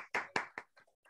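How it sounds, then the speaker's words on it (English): A few scattered hand claps, about five sharp separate strikes over roughly a second, as a webinar audience applauds a presentation. "Everyone, please applaud Tal."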